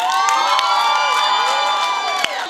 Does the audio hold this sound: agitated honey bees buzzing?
no